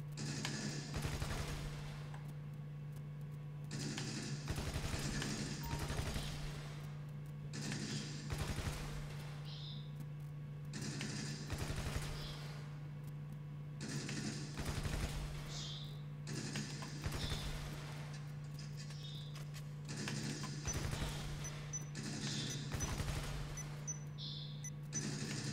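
An advanced assault rifle fires at the Los Santos Gun Club range in GTA V, with short bursts repeating at a steady rhythm over a constant low hum, all fairly quiet.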